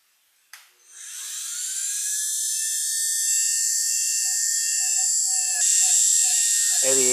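A rose engine lathe cutter taking a cut on a workpiece with a tailstock extension gives a steady, high whining tone that starts abruptly after a brief click and holds for several seconds, shifting pitch once partway through.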